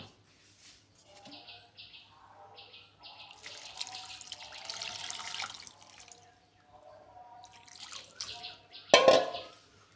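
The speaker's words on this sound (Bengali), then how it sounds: "এর ভিতরে আমি পানি দেব।" Water pours for a few seconds into a mashed small-fish mixture, moderately quiet, with faint chirping tones around it and a sharp clatter near the end.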